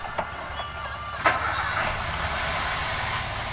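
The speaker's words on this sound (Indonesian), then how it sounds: "Sekarang kita nyalakan mesin ya." A 2014 Toyota Veloz in neutral is started with a short cranking burst that catches into a steady, even idle, heard close and alone.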